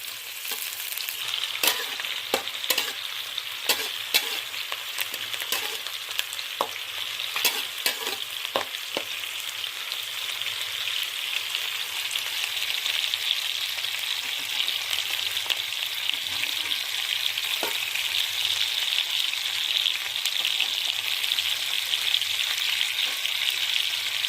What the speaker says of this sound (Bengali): পেঁয়াজটা গোল্ডেন ব্রাউন করে ভাজবো।